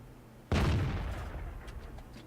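A single heavy cannon blast from an E-25 tank destroyer in the World of Tanks game erupts suddenly, loud and close, then rolls off in a long, decaying rumble.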